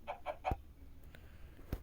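A video-game chicken clucks in three quick bursts followed by a couple of soft thuds, fairly quiet and close, with no talking.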